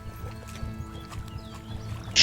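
A horse in the video game Kingdom Come gives soft hoof thuds and faint snorting sounds, low and quiet, with a brief louder burst at the very end.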